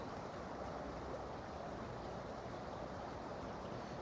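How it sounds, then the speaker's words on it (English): Falling water at a park in Nagoya, Japan, a faint, even rushing wash that carries on unbroken and sounds some distance away. "Nice relaxing sound too, just like the falling water."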